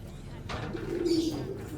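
A racing pigeon coos once in a low, throaty burr close by, with soft rustling in the background.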